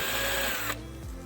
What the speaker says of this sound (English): So that's how I do the match drilling.